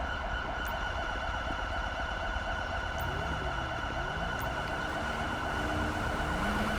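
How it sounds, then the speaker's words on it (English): Inside the game GTA 5, an ambulance siren wails over a steady roar of freeway traffic and engine noise. The siren's slow rising and falling sweeps are faint and stay in the background throughout. "Alright, so we do have ambulance coming."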